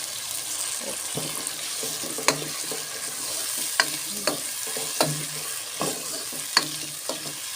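Cooked potatoes go into a pan of frying aloo saag and are stirred in. A spoon scrapes and clicks at irregular moments over a soft, steady sizzle, close by, with no talking.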